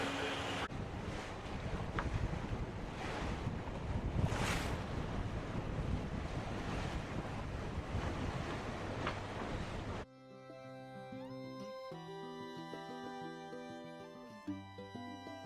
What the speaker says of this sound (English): The wind's down a bit, still gusting to 20, so speed's dropped a bit